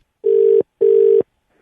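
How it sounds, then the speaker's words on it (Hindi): Telephone busy tone on a phone call: two loud, identical steady beeps, each about 0.4 seconds long and separated by a short silence, heard alone. "यार फिर आपका फोन बिजी है।"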